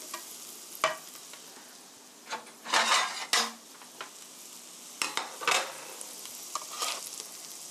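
A hamburg steak is lifted out of a hot frying pan: metal utensils clink and scrape against the pan in quick bursts over a soft continuous sizzle, close up with no talking.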